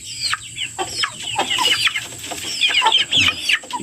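A young chick clucks and peeps repeatedly while being dosed with cold medicine, the sharp calls close and lively with little else around them.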